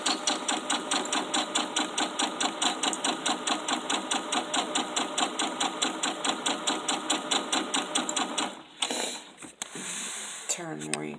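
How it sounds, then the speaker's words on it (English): A sewing machine back stitches fabric for a small gift sack, a rapid, steady run of mechanical stitching clicks for most of the clip, then stopping with brief handling noises at the end. "And then I'm going to back stitch."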